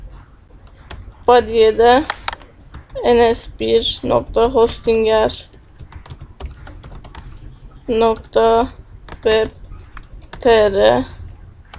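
A computer keyboard is typed in short bursts of clicks between stretches of close talking in Turkish, the keystrokes mostly sitting beneath and between the speech.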